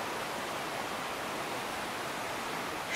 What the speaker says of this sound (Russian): Ручей.